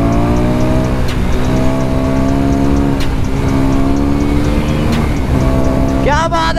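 A KTM 390 Duke motorcycle pulls hard in third gear with a loud, close engine whose pitch climbs steadily and dips briefly at shifts, rising again under wind rush, before a short rising whine at the end.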